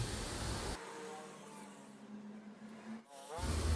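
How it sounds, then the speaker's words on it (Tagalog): An angle grinder trims the tip of a stainless steel exhaust pipe, loud broadband grinding at the start and end with a quieter, humming whine between the two cuts. "ginamitan na nga natin ng angle grinder, tinatabas na natin yung tip"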